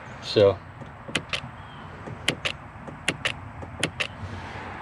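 A Corvette C8 trunk latch release module, rain-damaged and bench-tested outside by a switch, gives short sharp clicking actuations in small pairs at a steady pace, set against traffic noise, with a brief spoken word near the start.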